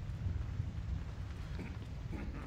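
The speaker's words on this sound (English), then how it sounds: "why is everybody out walking in the rain?" Steady rain in the video game Thief hisses in a soft, continuous wash with a low rumble underneath, no voices.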